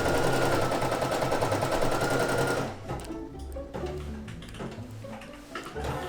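A Brother PE800 embroidery machine stitches a design, its fast rhythmic needle clatter loud and close for a couple of seconds, then settling into softer, uneven mechanical tapping and whirring.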